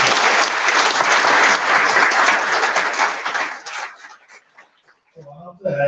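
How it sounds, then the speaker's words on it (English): An audience at the BIMTECH commencement ceremony for the incoming 2022-24 student batch claps loudly and steadily, then the applause dies away and a voice speaks briefly at the end. "very loud applause for the incoming batch"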